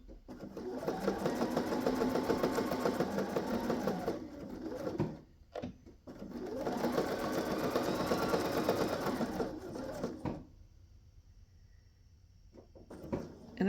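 A sewing machine stitches an altar pad in two steady whirring bursts of about four seconds each, split by a short pause and a few clicks, close by, then goes quiet.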